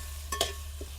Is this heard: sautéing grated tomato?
yes